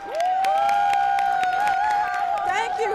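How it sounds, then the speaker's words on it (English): Honor Flight veterans arrive to a welcoming crowd whose cheers and clapping roll on loud and steady, with a sustained high tone and voices mixed through the noise. "Upon arrival, there were cheers, hugs, and applause."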